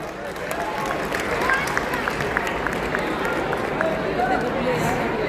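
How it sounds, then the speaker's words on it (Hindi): Audience clapping welcomes actress Raveena Tandon onstage at the International Herbal Fair 2022 workshop, a dense, steady wash of hand claps with crowd chatter throughout, holding at an even level for the whole stretch. "एक बार जोरदार तालियां।"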